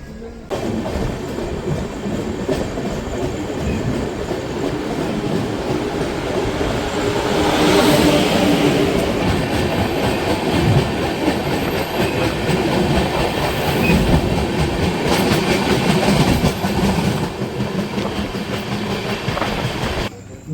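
A passenger train runs on rails toward Balasore station, with a continuous close rumble and rhythmic clickety-clack of wheels over rail joints that swells and eases across about twenty seconds.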